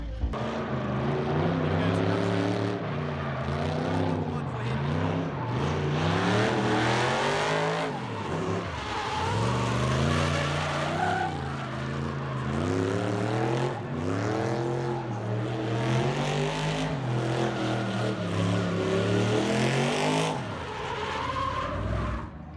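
Drifting cars at a track: engine notes rise and fall repeatedly through runs, with tyre screech and revving, fairly loud and continuous, with voices talking over the action.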